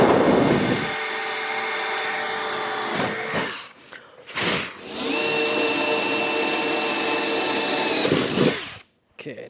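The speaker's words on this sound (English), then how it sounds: "Looks like this drill is about done." A worn DeWalt brushless drill runs in long sustained whining bursts with brief dips and stops, loud and close, used during boat console fabrication.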